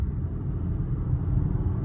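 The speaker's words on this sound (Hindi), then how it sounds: "जो मैं इंजन की ग्रंट की आवाज़ कर रहा था वो अब सुनो थोड़ा" A Honda Elevate's engine gives a steady, loud low-pitched grunt and rumble that runs unbroken throughout, with no voices over it.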